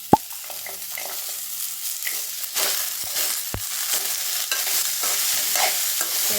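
Bottle gourd pieces tumble into a pan of softened onions and are stirred for a home-style Tamil poriyal, with steady sizzling, scraping spoon strokes and a few sharp clacks against the pan, close and with no voices.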